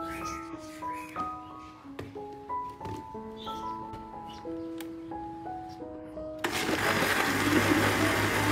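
Blender whirs up loudly and runs steadily after several seconds of quiet kitchen sounds and clinks, a dense continuous roar.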